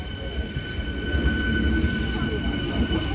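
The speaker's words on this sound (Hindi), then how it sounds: "भरी ट्रेन आ चुकी है और अब भरी ट्रेन में हमें जाना है।" A crowded Mumbai local train pulls into a station platform, its steady low rumble and rolling wheel noise filling the scene alongside a high electrical whine, with continuous crowd chatter and voices mixed in.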